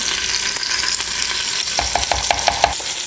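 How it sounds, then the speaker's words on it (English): A whisk stirs brown sugar and Dijon or whole grain mustard in an Instant Pot over a constant sizzling hiss, then settles into a quick series of rhythmic clinks and scrapes against the pot. "We'll give this a nice whisk."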